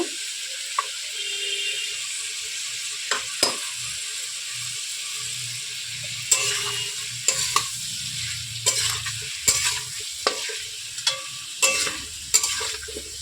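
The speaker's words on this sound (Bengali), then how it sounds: "ভালোভাবে ভেজে নেব। বেটে রাখা মশলাটা দিয়ে দেব।" Ground spice paste frying and being stirred with potato and ridge gourd in a pan for a rohu fish curry: steady close sizzle with repeated scraping, clattering stirs, no talking.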